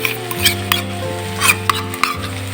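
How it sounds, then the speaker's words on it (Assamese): Onions frying in a pan and stirred with a spoon, a soft sizzle under a steady low stove hum, broken by a few light scraping clicks of the spoon. "পিঁয়াজ ভজা ভজা হৈ গৈছে"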